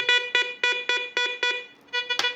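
A homemade metal detector with added audio frequency output gives a series of rapid electronic beeps, about six evenly spaced pulses followed by a brief gap and a shifting, higher tone, loud and close.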